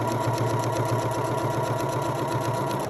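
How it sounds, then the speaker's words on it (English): A PFAFF Passport sewing machine with a built-in walking foot stitches steadily through several folded layers of denim, a fast, even mechanical whir running continuously and close up. "PFAFF sewing machines have the built-in walking foot, so that makes this even smoother going underneath that foot"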